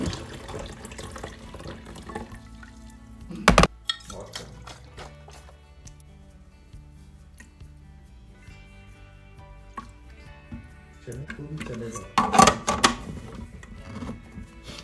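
Water poured into a tumbler, a steady liquid stream with a couple of sharper clinks and splashes, close up and without talk.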